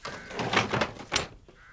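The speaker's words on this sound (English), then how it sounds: "Get out the shed and I'll bolt the door again." A wooden garden shed door is shut and bolted, giving a cluster of knocking and scraping thumps followed by a sharp clack of the bolt, fairly close and alone.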